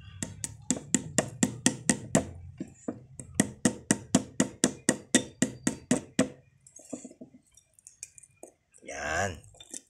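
Rapid metallic taps from hammering a pin into a wristwatch bracelet to adjust its length, a steady run of about two dozen sharp strikes, a pause, then a few more, with a voice speaking briefly near the end.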